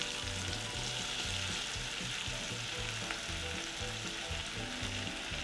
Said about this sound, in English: we're going to throw in our steak